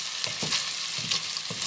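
Vegetables fry and sizzle steadily in a non-stick pot for a lenten soup, with faint stirring scrapes and crackles close by and no voices.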